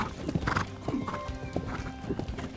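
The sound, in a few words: horse hooves during riding lesson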